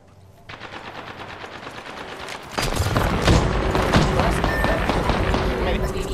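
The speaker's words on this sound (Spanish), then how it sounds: "Están disparando." Rapid automatic gunfire in a video game firefight, starting as sparser bursts and then swelling after a couple of seconds into dense, loud, continuous shooting, with voices talking over the action.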